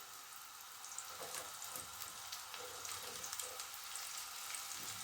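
Onions and carrots frying in oil in a pot, a steady close sizzle with crackling pops throughout and no talking.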